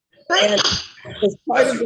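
A single sharp sneeze bursts out close by in the middle of conversation, with a person speaking just before and after it.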